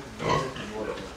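Pig on a farm among newborn piglets, grunting close by in a short burst under overlapping talk.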